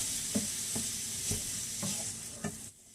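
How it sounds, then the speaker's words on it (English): Meat sizzles steadily in a hot pan while a utensil breaks it up, giving a continuous frying hiss with several distinct scraping stirs at a regular pace. "So I'm going to continue to break this up and let it cook."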